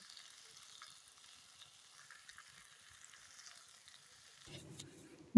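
Banana flower curry being stirred and fried in a pan with sugar and garam masala, giving a soft, steady sizzle and scraping throughout, faint and close, with a louder clatter near the end.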